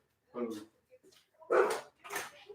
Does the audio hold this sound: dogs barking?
yes